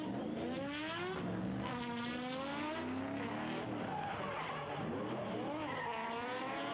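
Drift cars at a competition skid sideways with loud, sustained tire squeal and revving engines, the squeals bending and overlapping continuously as the cars chase each other, with no voices.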